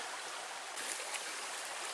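A deep, cold river in Michigan's Porcupine Mountains rushes steadily as a hiker prepares to wade across, a close, hissing broadband flow with a slight surge partway through and no voices.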